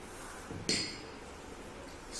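A spoon stirring sugar in a glass beaker, heard as a single bright clink against the glass over a quiet hiss, close and brief.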